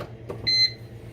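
An electric pressure cooker, just plugged in with its lid on, gives a single short electronic beep, clear and close against a quiet kitchen background.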